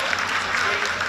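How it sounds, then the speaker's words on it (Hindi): Dense, sustained applause from a roomful of people at rocket mission control during the LVM3 M-3 OneWeb launch, a steady wash of clapping with voices murmuring underneath. "आप तालियों के गड़गड़ाहट से सुन सकते हैं"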